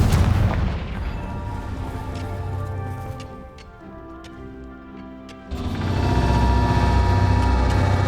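Spell blasts in the game Hogwarts Legacy go off as loud, heavy booms with rumbling, crackling bursts; the dense impacts ease into a quieter stretch midway before another powerful blast surges back and holds to the end.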